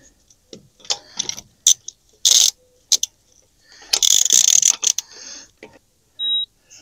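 A hand ratchet fitted with a torque adapter clicks in short irregular bursts, some quick pawl chatter and some longer runs of rapid ticking, close and fairly crisp against a quiet background.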